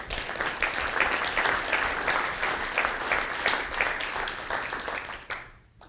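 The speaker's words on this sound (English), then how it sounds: "Let's give ourselves a quick round of applause." A conference keynote audience claps steadily in dense, sustained applause that fades out near the end.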